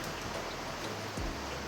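Heavy rain drips and pours from a roof in a dark Himachal Pradesh village before dawn, a dense, steady hiss of water with no break and no voices.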